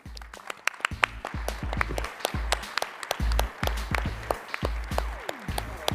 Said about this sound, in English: let me get all the presenters back on stage for a last round of applause